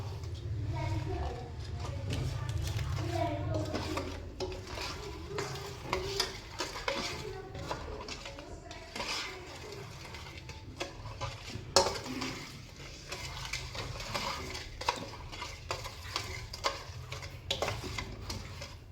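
Green chillies and lemon pieces being mixed together with pickle spices in a bowl, giving close, repeated stirring and scraping clatter with utensil knocks, under intermittent talk.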